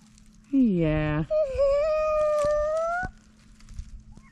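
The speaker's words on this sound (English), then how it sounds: "No, she's meowing." A cat gives two drawn-out, wailing meows in quick succession, close and clear against a quiet background.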